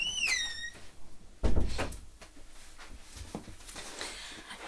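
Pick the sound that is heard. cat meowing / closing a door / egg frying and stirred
closing a door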